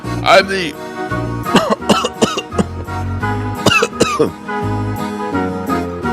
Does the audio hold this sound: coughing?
yes